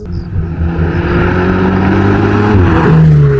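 A Ferrari supercar engine accelerates on hilly roads, a deep rising drone climbing in pitch and growing louder, heard from close up with no talking.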